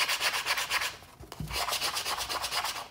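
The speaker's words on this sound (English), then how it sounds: "So I'm gonna use my hand to help burnish this down." A hand burnishing vinyl down onto a painted canvas, quick rhythmic rubbing strokes making a close, dry swishing scrape with a brief pause and a soft thump midway.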